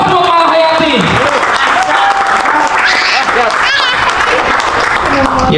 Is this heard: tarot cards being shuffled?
no